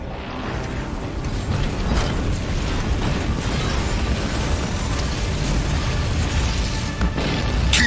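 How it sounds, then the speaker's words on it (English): A building in the Halo Wars 2 video game collapsing in an explosion, a sustained loud rumbling roar with crackling debris and creaks, a few sharper bursts, and a dense low rumble throughout. "Enemy building is rubble."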